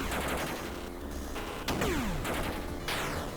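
Bullets fire in the arcade shooter Rolling Bird, a dense run of rapid gunfire with sharp bursts, one descending whistle and layered game effects, loud and continuous throughout.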